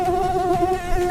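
A mosquito buzzes close and loud in a continuous whining drone that wavers slightly in pitch, with no other sounds over it.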